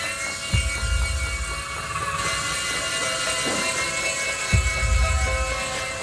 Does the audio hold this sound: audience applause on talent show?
no